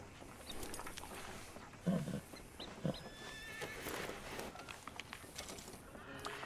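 A horse in a video game gives a couple of short snorting neighs around the middle, set against a steady outdoor ambience with faint birdsong and soft background movement.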